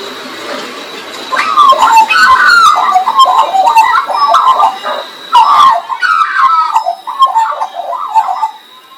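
A crow in Australia calls repeatedly in short, throaty bursts over a faint steady hum, the calls coming in loose clusters, fairly close and clear.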